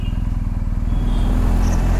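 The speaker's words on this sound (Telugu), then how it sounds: "బైక్ సరిగా తీయట్లేదు" A motorcycle engine that is not pulling properly chugs loudly and close by with a rapid, slightly uneven low pulse that holds steady over two seconds.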